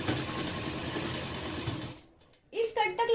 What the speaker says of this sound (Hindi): यहाँ पर आप जरा ध्यान से देखिएगा कि हम इसे कैसे स्टिच करते हैं